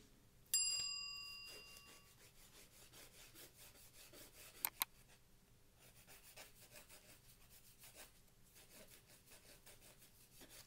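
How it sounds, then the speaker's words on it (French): A nail file shapes a fingernail into a rounded form in steady, faint, rhythmic rasping strokes. A couple of tiny metallic clicks sound in the quiet. "je vais pouvoir venir faire un coup de lime"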